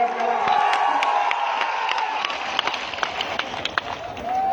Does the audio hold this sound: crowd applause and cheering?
yes